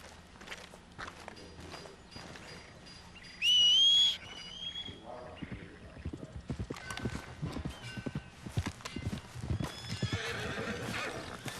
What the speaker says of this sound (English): So this is my new horse, Epona.